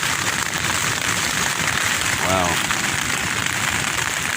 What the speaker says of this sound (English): This tent really gets battered with wind, I can tell you that.